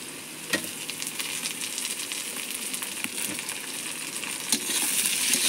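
Chopped tomato frying with lightly browned onions in a pan gives a steady close sizzle throughout, with a couple of brief sharper crackles and no talking.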